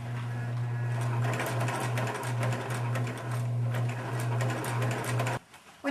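A sewing machine hums steadily as it stitches a curtain seam, a continuous whirring drone with a rapid mechanical rhythm that stops abruptly near the end.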